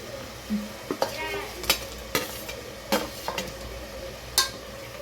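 Ginger garlic paste fries in hot oil for biryani under a steady soft sizzle, with close, repeated scraping stir strokes of a spoon against the pan coming in irregular bursts.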